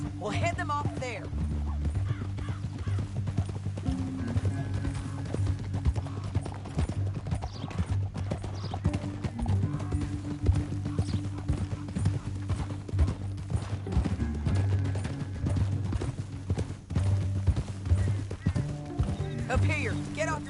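Horses gallop in Red Dead Redemption 2, a steady run of hoofbeats throughout with an occasional whinny, while voices talk over them.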